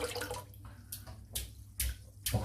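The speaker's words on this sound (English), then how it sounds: "So I'm going to dip this in the water." A shaving brush dipped into water, giving a few short splashy swishes and drips, close and fairly quiet, with no one talking.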